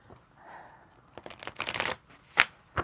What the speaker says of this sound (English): I have shuffled and shuffled.